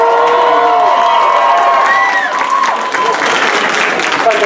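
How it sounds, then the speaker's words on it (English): A comedy show audience breaks into loud applause with cheers and whoops, a close, dense burst of clapping that holds for several seconds while a voice talks early on. "Give him an applause."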